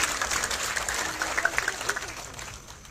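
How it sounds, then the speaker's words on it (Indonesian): Church congregation applauding during a sermon in Keerom, a burst of scattered clapping that peaks in the middle and fades over about three seconds. "Kita tepuk tangan sekali lagi untuk kemuliaan Tuhan."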